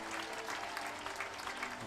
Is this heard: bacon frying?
no